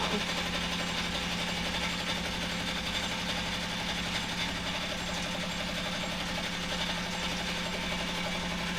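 An embroidery machine stitches thread, including red thread, running steadily with a constant mechanical hum and rapid needle chatter throughout, close and fairly loud, with no talking.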